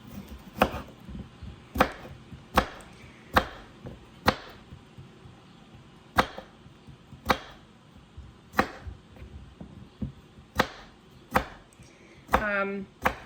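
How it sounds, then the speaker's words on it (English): A knife cuts cucumber slices on a board during food prep in a steady series of about a dozen crisp chops, close and clear, with light handling noise between strokes. "I'm just gonna do 3 slices of cucumber in each"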